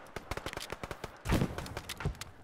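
Machine gun fire in a war video game, a rattling run of quick shots followed by a couple of heavier, louder blasts, moderately close.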